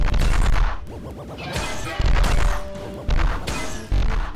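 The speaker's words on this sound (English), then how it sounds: "Oh wait, are they shooting at me as well?" Gunfire aimed at the player in the VR game Viral Ex, played on an HTC Vive: loud, dense bursts of shots and impact crashes come in several waves, with brief quieter gaps between them.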